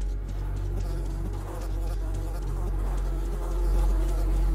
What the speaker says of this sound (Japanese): いやー、ハエが多いよ。